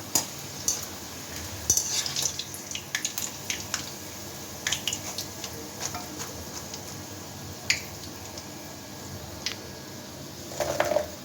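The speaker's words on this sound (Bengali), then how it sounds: "এই যে গরম তেলে দিব আর তুলবো। চিপস ভাজতে কিন্তু আমার কাছে মজাই লাগে।" Potato chips frying in hot oil, a continuous soft sizzle broken by sharp crackles and scattered clinks as pieces go in and come out, with no talking.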